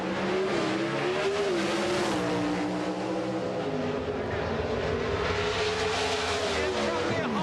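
Pro Stock drag race cars at a 1990 NHRA event roar continuously at full power, a dense, loud engine drone with shifting pitch, under a commentator talking throughout.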